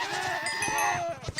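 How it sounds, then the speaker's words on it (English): A goat in the video game Minecraft lets out a loud, close, wavering, human-like scream. It rises and bends in pitch for about a second, then breaks off, with faint knocking underneath. "Did you guys just hear a goat scream?"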